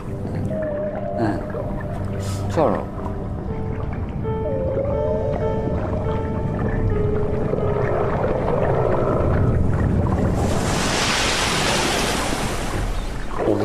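Antarctic whales calling underwater, with several rising and falling moans and squeals over steady sea noise and a loud watery rush near the end. A voice briefly speaks.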